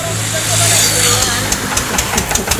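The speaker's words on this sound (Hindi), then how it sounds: "इधर ये चालू हो गया जनरेटर" A generator starts and settles into a loud, close engine hum, with knocking pulses toward the end, while someone talks over it.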